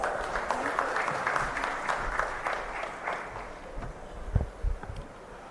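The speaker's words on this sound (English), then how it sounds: "Let's give him a hearty round of applause." Applause from an audience at a factory inauguration ceremony in Coimbatore, India, steady broadband clapping that fades slightly, with a few low thumps near the end.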